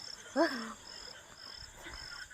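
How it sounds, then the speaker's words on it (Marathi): A single clear frog croak stands out near the start, then a faint chorus of frogs and insects continues quietly beside flowing water on a rural full-moon night. "बघा बेडकांचे किती आवाज चालले"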